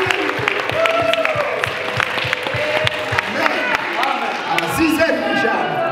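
A church congregation applauds amid crowd noise during a sermon, with scattered claps, shouts and voices blending into a busy, reverberant wash that stays fairly steady throughout.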